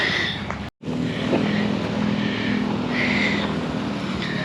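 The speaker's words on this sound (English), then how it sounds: "Hang on, this truck goes." Truck rolling past at a campground, a steady broadband engine and road rumble that stays loud and close throughout, broken by one brief dropout near the start.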